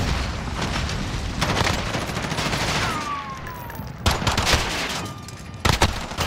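Shooter video game gunfire in a 2v2 match, with repeated shots and scattered bursts over a busy game soundscape, a sharp loud crack near the end.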